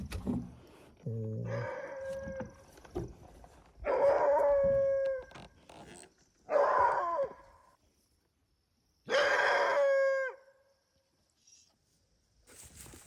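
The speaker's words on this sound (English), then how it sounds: "And we've got ourselves a big yellow dog." A big yellow dog caught in a trap howls in drawn-out, wavering cries, four or five long howls separated by pauses, with softer whines and breaths between them, outdoors and close by.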